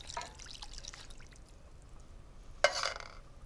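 Water swilled out of a canned tomato tin and poured into a cooking pot, giving a short faint trickle and then a brief, sharper splash near the end.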